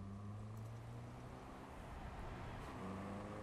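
A car drives in the Cyberpunk 2077 video game, with a steady low engine hum and road rumble that stays even and continuous throughout, with no talking.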